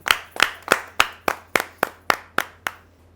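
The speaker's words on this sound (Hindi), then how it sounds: "जोरदार तालियों से स्वागत कीजिए उमाकांत" During a Hindi kavi sammelan, about nine sharp, evenly spaced claps ring out in a steady rhythm, close and distinct, as the poet Umakant Parashar is welcomed. The sound stops cleanly with no speech.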